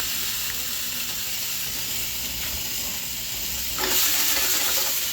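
Food sizzling steadily in a hot pan on the stove, a continuous close hiss and crackle that swells louder near the end as the ingredients are stirred.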